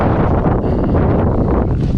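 Strong ocean wind buffets the microphone during kayak fishing, a loud, continuous roar of gusty rumble and hiss with no letup and no other distinct sounds.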